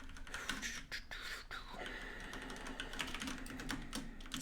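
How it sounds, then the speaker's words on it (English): Fast typing on a computer keyboard while entering x86-64 assembly code, a dense, continuous patter of close key clicks with no voices. "So let's just type that in and get a solution."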